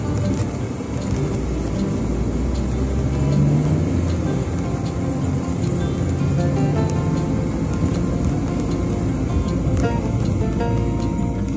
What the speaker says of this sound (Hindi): अब इसमें ट्रैफिक और देखना होगा।